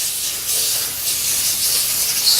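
Steady aerosol hiss as cleaner is sprayed onto the barrel of an untouched Martini Henry Mk IV rifle, one continuous close burst lasting a couple of seconds with no talking.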